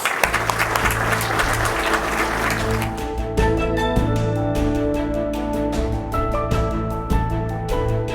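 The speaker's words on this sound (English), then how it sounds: "Let's give them a round of applause." Loud burst of crowd clapping that fades after a few seconds, giving way to a steady tonal musical backdrop.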